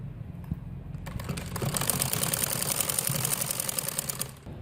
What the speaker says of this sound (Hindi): अब हम इसको इसके साथ सिलाई कर रहे हैं गोट को नीचे वाले घेगड़ी के साथ।